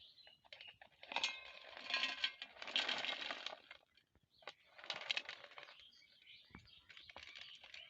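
Fried pieces being dropped into a mixer grinder jar while making suji motichur laddu in a home kitchen, heard as close rattling clatter and tapping in bursts with brief pauses.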